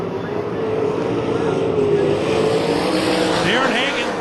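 USAC/CRA sprint cars roaring into turn 1 at Phoenix, a dense, sustained engine drone with a rising whine near the end, heard under a race commentator's voice.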